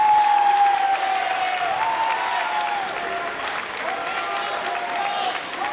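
A high school basketball crowd at a Milford Scarlet Hawks home game against Dedham applauds and cheers in a loud, steady wash, with a thin sustained whistle-like tone running above the noise.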